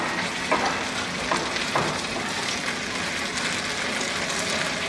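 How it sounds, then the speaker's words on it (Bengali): Chicken pieces sizzle in hot oil in a home pan over medium heat, a dense steady crackle with occasional louder pops and stirring clatter, close and continuous with no talk. "আমি কিন্তু মাঝারি আছে ভাজতেছি"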